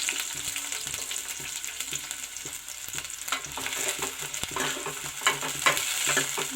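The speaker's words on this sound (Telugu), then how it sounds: "ఇదమ్మా నూనె మరిగింది, ఉల్లిపాయలు పచ్చిమిరపకాయలు వేస్తున్నానండి." Onions and green chillies fry in hot oil in a cooking pot, giving a steady close sizzle broken by repeated scrapes and taps of stirring. No talk is heard over it.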